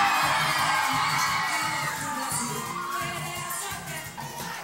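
A crowd of schoolchildren at a school event in Brazil shout and cheer loudly together, a dense continuous roar that eases slightly toward the end.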